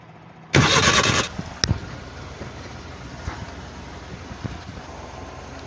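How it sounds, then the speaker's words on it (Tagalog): A small multicab engine, still cold, cranks briefly and catches after a tune-up, then settles into a steady idle with a few clicks and knocks. "papandarin ko na lang ang makina na to"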